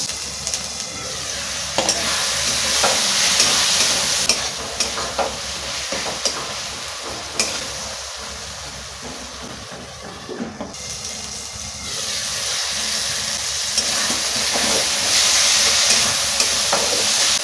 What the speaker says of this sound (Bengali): আদা রসুন টমেটো ভালো করে ভাজা হয়ে গেছে